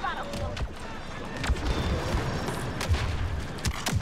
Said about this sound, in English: Dude, there is so much concentrated fire happening.